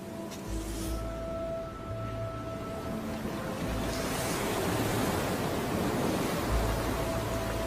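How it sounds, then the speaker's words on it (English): Ocean surf breaks on a sandy sea-turtle nesting beach, a broad continuous wash of roaring waves that swells louder in the second half, with low rumbles and some wind on the microphone, no voices. "And she returns to the waves."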